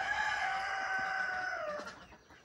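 A rooster among meat chickens on processing day gives one long, loud crow close by, with the call sliding down at the end over faint farmyard background.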